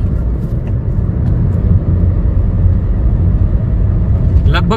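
A 2014 Toyota Etios Cross with about 117,300 km on it pulls in third gear at around 30 km/h, its engine giving a loud, steady, low drone heard from inside the car.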